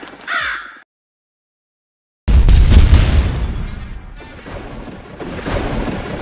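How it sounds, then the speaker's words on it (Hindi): A sudden loud boom in a Free Fire game action story, a heavy explosion that bursts in after a short silence and rumbles with crashing debris for several seconds, preceded by a brief bird-like caw. "अरे ये धमाका कैसे हुआ यहाँ पर?"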